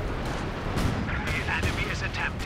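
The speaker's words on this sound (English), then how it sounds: "light artillery barrage coming down." A light artillery barrage lands in the strategy game Company of Heroes 2 during a 2v2 match, heard as a rumbling wash of distant booms and blasts under continuous commentary voices.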